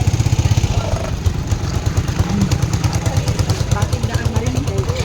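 A motorcycle engine runs nearby with a steady, rapid chugging pulse, like an idle, throughout. Voices can be heard faintly beneath it.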